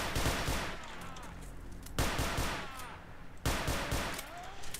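Gunfire in S.T.A.L.K.E.R. Shadow of Chernobyl, a game shootout with rapid bursts of shots, loud and close, in dense clusters broken by short pauses, with echoing tails and faint game sounds underneath.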